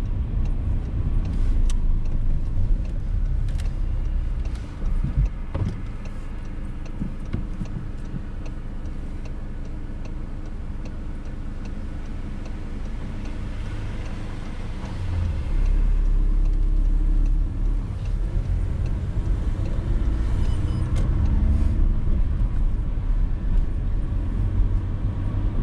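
Car driving through town during a driving test, with a steady low engine and road rumble from inside the cabin and a rhythmic indicator ticking, while the engine swells briefly in the later part.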